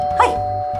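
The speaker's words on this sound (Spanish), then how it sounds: "¡Que está tocando el timbre!" A single electronic doorbell ding-dong rings indoors, a short bright chime with a sustained tone beneath it.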